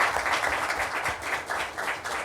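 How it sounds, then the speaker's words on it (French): An audience at an economic and political forum applauds after a professor's talk, giving steady, dense clapping that holds evenly throughout. "Et maintenant, pour applaudir l'intervention"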